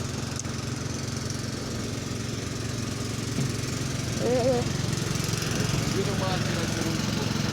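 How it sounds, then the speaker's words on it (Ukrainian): Yuto LX1012 tractor engine running steadily at a field spraying job, a constant droning hum with a slight rise partway through, heard fairly close. "Трактор Юто LX1012."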